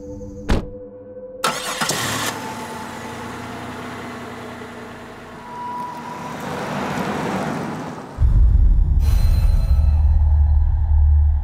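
A truck engine revs and drives in a steady mid-level drone. A couple of sharp knocks come early, and the engine swells louder and closer toward the end, with no talking.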